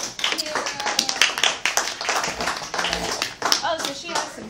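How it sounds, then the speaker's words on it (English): Clapping hands at a Portland Zoo presentation as the crowd applauds a child volunteer, with a voice and other voices mixed in among the uneven patter of claps. "how about a round of applause for our volunteer?"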